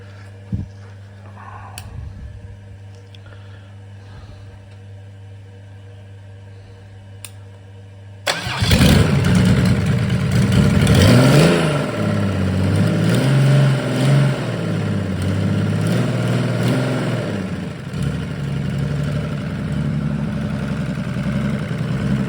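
Mercedes OM603 3.0 litre diesel engine on a test stand, quiet at first with a few small clicks, then cranking over and catching abruptly into a loud clattering idle with brief revs, running steadily to the end.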